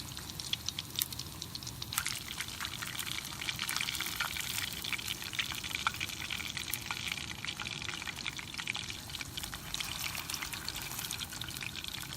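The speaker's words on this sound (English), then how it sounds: "That's good hot oil. That's the way it's supposed to be. Is that sizzle?" Hot oil sizzles and crackles steadily and loudly while frying beer-battered lingcod, a dense continuous frying hiss with small pops, no voices.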